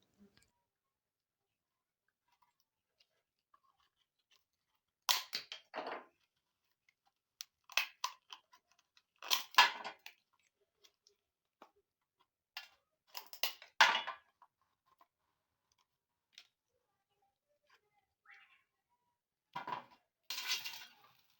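Coconut shell being worked loose from the meat with a tool, giving scattered scraping, cracking and clicking bursts separated by long quiet gaps, close-up and fairly faint.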